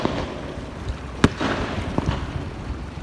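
Fireworks set off over the Lake of the Ozarks, a sharp pop followed by a few fainter bursts and crackles out in the open air over a windy, outdoor background.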